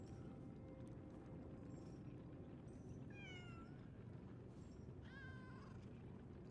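A kitten in the video game Lies of P meows twice, the thin rising-and-falling cries clear over a steady low ambient bed with no talk.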